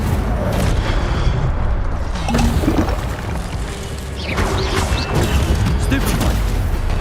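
A fiery Incendio spell bursts out during a Hogwarts Legacy duel against guards, a loud whooshing crackle over dense, continuous battle noise and booms.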